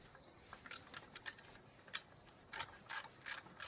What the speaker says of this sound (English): tighten these bolts for the clamp.